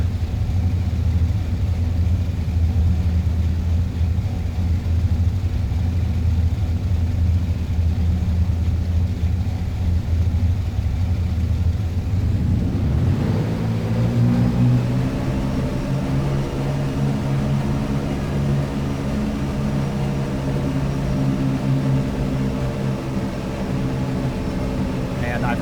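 Aircraft engines spool up for takeoff in a flight simulator game, a steady broadband roar that shifts midway into rising harmonic engine tones, loud and continuous throughout.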